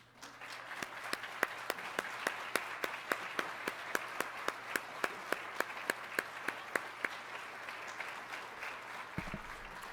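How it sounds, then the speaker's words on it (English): An audience at a fall nurse pinning ceremony claps for servicemen and women, a steady patter of applause from a modest crowd lasting about ten seconds before it cuts off, slightly distant and moderate in level. "give you a heartfelt round of applause and our most sincere thank you"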